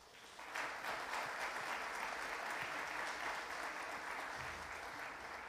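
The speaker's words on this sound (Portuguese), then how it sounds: "uma salva de palmas para vocês" Sustained applause from an audience at a French song festival in São Paulo, a dense steady wash of many hands clapping that swells in after a brief moment and holds loud to the end.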